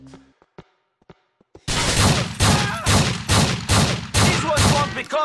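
Loud bursts of gunfire in Grand Theft Auto IV, a rapid series of about seven heavy volleys in steady rhythm, following a second of near silence with faint clicks.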